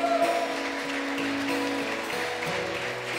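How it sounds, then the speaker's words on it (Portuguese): Church congregation applauding during a Sunday worship service, a steady dense wash of clapping held at even loudness with sustained organ or keyboard tones underneath. "Aplauda o Senhor Jesus"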